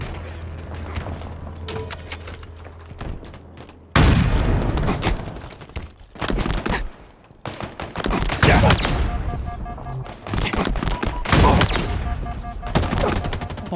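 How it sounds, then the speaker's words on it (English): Sniper rifle fire in the Halo Infinite video game: several heavy, booming shots that land as loud, abrupt bursts, each with a thick tail, spaced irregularly among quieter in-game ambience. "after that clip with the sniper, the beefiest possible sounding thing we've ever had in a Halo game"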